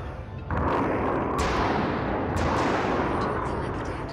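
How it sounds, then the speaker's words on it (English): Weapons fire strikes a ship in the space combat game BossConstructor, a sustained loud rumbling barrage with heavy booming impacts and sharp hits around the middle and later, continuous throughout with no talking. "my missile launcher got shot off"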